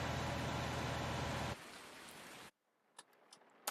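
Rain in the video game Farming Simulator 19 forms a loud, dense steady hiss that drops in level, then cuts out abruptly, leaving near-silence with a few faint clicks and taps.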